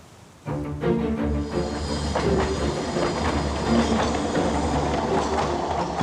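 A train on a railway in Wales rumbles steadily along the rails with a rhythmic clatter of wheels, loud and close, starting abruptly and continuing without pause.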